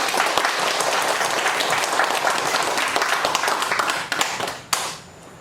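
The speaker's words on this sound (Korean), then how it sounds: "박수 한번 쳐드리십시오." Sustained applause from a church congregation at a Wednesday worship service, dense steady clapping filling the room before tapering off at the end.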